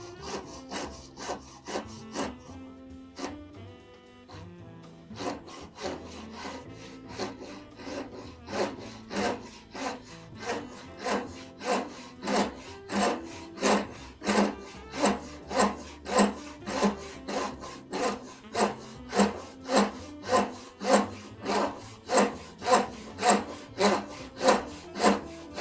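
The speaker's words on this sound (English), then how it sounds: "let's get back into doing some hand-sawing" A hand saw cuts through wood in steady back-and-forth strokes, starting slow and uneven, then settling into a fast, regular rasping rhythm.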